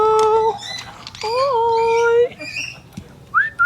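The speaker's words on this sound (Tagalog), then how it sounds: "Pasok tayo sa loob at pakita natin yung mga available ni Sir Joel na aso." Dogs at a guard dog kennel howl and whine in long, wavering cries that overlap, close by, with short breaks and a final rising yelp.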